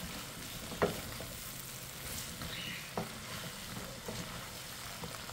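Vegetables for pakbet sizzle quietly in a pan while being stirred, soft frying hiss with a few distinct scraping clinks of the utensil, no voices.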